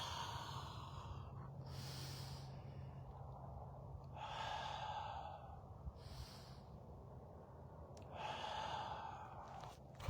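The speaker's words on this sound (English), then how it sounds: "And then you exhale through the mouth." Slow, deep breaths in a quiet room during a breathing exercise, each long mouth exhale rising as a soft airy rush, several spaced breaths over faint background hiss.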